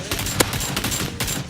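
Rapid video game gunfire, a quick string of sharp, evenly spaced shots firing close and loud over a short burst.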